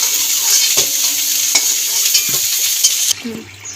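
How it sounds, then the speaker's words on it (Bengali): Cauliflower fries in hot oil, a loud, close, continuous sizzle with repeated scraping stirs of a utensil in the pan, dropping sharply near the end. "গরম তেলের মধ্যে ফুলকপিটা একটু ভেজে নেবো"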